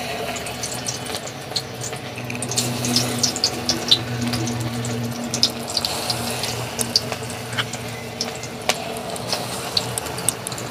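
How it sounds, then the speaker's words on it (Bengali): Arum flower pakoras frying in hot oil for a Bengali village recipe, giving a steady, fairly loud sizzle with scattered crackles and pops throughout and no talking. "তেল গরম হয়ে গেছে, পকোড়াগুলো আমি তেলের উপর দিয়ে দিচ্ছি।"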